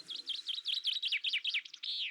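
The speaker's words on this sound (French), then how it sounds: "N'est-ce pas, petit oiseau là-haut?" A small bird chirps from overhead in a quick run of bright, repeated notes, clear and fairly close, ending on a drawn-out call, with no voices.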